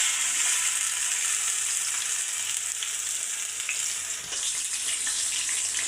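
Ground spice paste hits hot oil in a kadai for an egg and tomato dish, giving a loud, steady, close sizzle that barely wavers, with a slight dip partway through.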